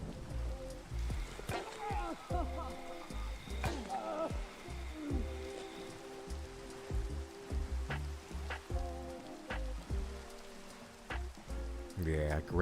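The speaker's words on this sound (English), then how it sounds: "Yeah, great storm sounds." Rain patters steadily through a Minecraft video game storm while a person talks over it at moderate volume, with scattered short clicks and game sounds mixed in.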